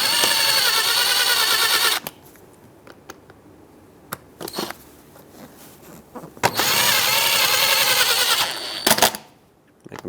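A power screwdriver drives screws while front seat covers are fitted on a 2003-2009 Dodge Ram 2500, in two loud whirring bursts of about two seconds each, with quiet handling clicks and rustles between them.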